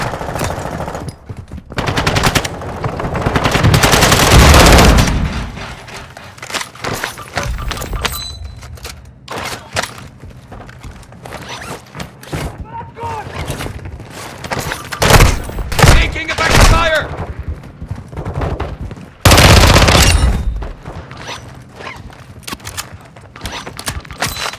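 Gunfire in a military shooter video game, with bursts and single shots popping in clusters at close range, mixed with game callouts and a voice talking throughout.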